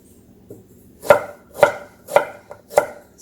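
A knife chops through an onion on a cutting board while pork trotters are being prepared, giving four or five sharp, close thuds in a steady rhythm.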